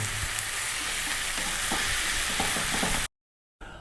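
Chicken and tofu stir-frying in a wok with oyster, fish and soy sauce, a loud continuous sizzle with stirring scrapes, cutting out abruptly near the end before resuming briefly.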